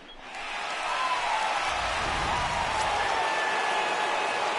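Video game stadium crowd in MLB The Show 19 roaring at a home baseball game, a broad steady cheer and applause that swells in within the first half second and holds loud and even to the end, with no talk over it.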